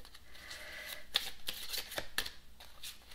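A deck of tarot cards is shuffled by hand up close, with a quick run of soft flicks and sharp riffling snaps in irregular bursts that keep going throughout.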